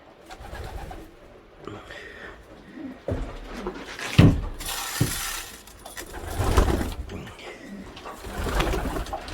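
Racing pigeons coo softly and repeatedly nearby, with fluttering and shuffling sounds scattered throughout.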